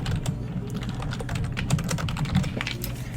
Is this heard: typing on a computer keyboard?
yes